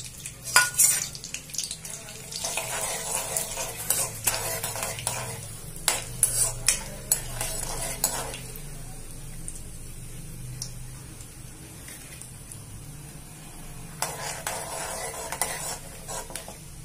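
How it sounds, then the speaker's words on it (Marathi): Peanuts frying in hot oil with cumin, a soft continuous sizzle under repeated scraping and stirring of a spoon against the pan in a home kitchen, with clinks of the utensil in bursts. "हे शेंगदाणे, हे बघा, शेंगदाणे चांगले तळून घेऊ तेलात."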